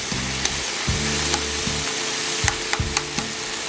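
Wagyu beef steak sizzles on a hot griddle with steady frying hiss, sharp spitting pops of splattering fat, and a low humming drone underneath.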